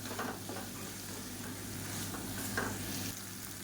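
Raw banana masala is stirred in a frying pan, a soft steady sizzle broken by light scraping strokes of the spoon, fairly quiet and close with no talk.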